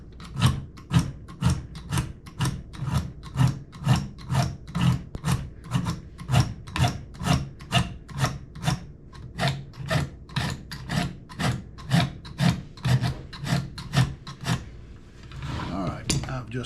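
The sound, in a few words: knife being pulled through a sharpener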